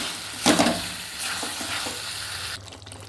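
Potato and pointed gourd sizzle in hot oil while a spatula scrapes and stirs them in the pan, a steady crackle broken by a few louder scraping strokes, close and without talk.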